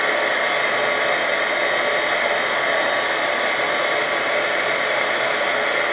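Heat tool blowing and melting embossing powder on glossy cardstock, a loud, steady, unbroken hiss-like whir heard alone for several seconds.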